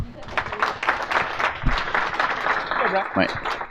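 Applause from an audience at a startup pitch event, a moderate burst of clapping that stays fairly even throughout, with some talk and voices mixed in.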